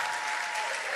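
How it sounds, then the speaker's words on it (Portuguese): An audience at Brazil's National Institute of Traumatology and Orthopedics, during a visit by President Lula, applauds the hospital workers with a brief, dense, steady burst of clapping from many hands. "Queria uma salva de palmas para todas as trabalhadoras e trabalhadores do nosso Instituto Nacional"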